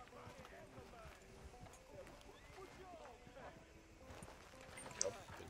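Horse hooves clip-clop at a steady walking rhythm in the Red Dead Redemption 2 video game, soft and fairly faint, with a voice speaking over them.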